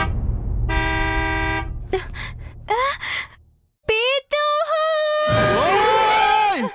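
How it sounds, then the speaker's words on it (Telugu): A car horn sounds one sustained, loud blast, followed by short gasps and sighing vocal sounds. "డ్రైవర్ హార్న్ కొడుతున్నాడు"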